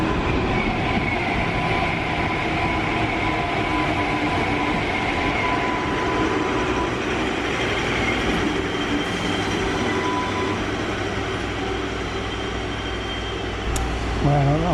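A train on the West Coast Main Line pulling in at platform 5 of a station, heard as a continuous loud rumble of wheels and carriages with a brief squeal near the end.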